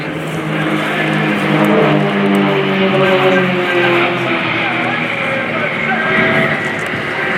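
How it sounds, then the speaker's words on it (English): An Extra 330LX aerobatic propeller plane flies display maneuvers with the Royal Jordanian Falcons at the RIAT 2018 airshow, its steady loud engine drone held throughout, with commentary over it. "Number 4 will be spitting soon and showing you some of his impressive maneuvers in this aircraft."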